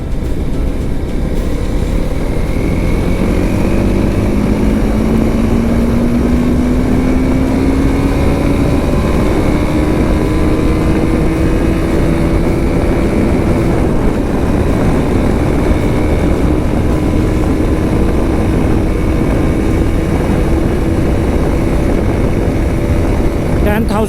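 TVS RTX 300 motorcycle accelerating in fourth gear in urban ride mode on a highway, a steady loud engine drone with a rising pitch, continuous wind rush and no pauses.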